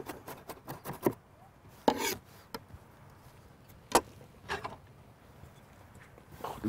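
A knife cutting onion and tomato on a board in a home kitchen: scattered, uneven chops and scraping rubs, some close and crisp, with quiet gaps between the strokes and no talk.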